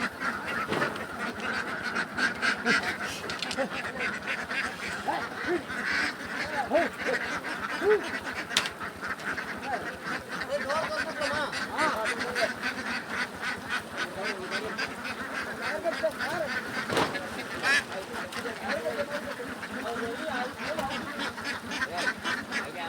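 A dense flock of about two thousand farm ducks in an upper pen quacks continuously and loudly, many overlapping calls forming a steady noisy chorus throughout.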